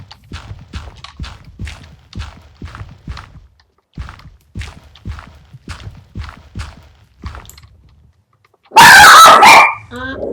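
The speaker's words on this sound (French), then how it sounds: "Ah, excusez pour le chien." A dog barks loudly and close in short bursts near the end, after a long run of soft rhythmic thuds like footsteps or blocks being placed while playing Minecraft.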